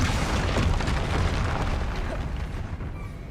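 A Confringo fire spell blasts in the Hogwarts Legacy game: a loud, dense explosive boom with rumbling crackle that fills the moment and then slowly tails off.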